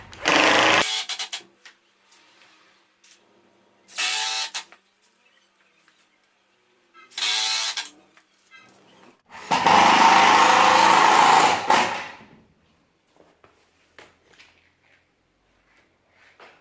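Power drill boring into MDF for a pass-through door frame: four close, loud high-pitched whirring bursts of one to three seconds each, separated by quiet gaps, with the last burst the longest.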